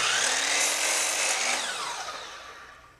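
A miter saw cuts through a piece of wood with a loud, close, high whine that slowly fades as the blade spins down over a few seconds.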